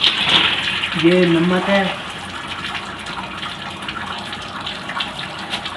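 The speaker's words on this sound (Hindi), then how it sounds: "ये अभी पानी डाल रहा है, फिर आप नमक डालेंगे।" Water pours steadily into a flour dough-making machine, a broad continuous gush under a brief spoken remark at the start, then running on alone.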